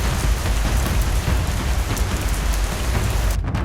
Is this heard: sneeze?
no